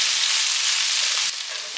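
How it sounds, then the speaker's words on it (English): Beans and red pepper fry in a pan while being stirred, a loud, close, steady sizzle that drops slightly in level near the end. "give it a good stir so that we can also start to fry those things up a bit"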